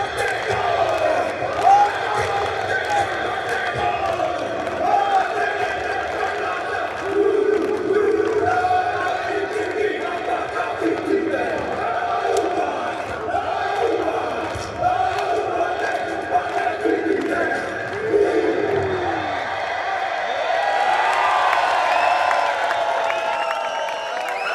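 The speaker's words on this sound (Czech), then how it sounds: "Na úplný závěr jsme si nechali udílení ceny Fair Play, kterou Robin Schauer oslavil maurským tancem haka." Robin Schauer performing a Maori haka at a city volleyball league final's Fair Play award, rhythmic chanted shouts ringing over a lively crowd that cheers and claps throughout, with voices mixed in.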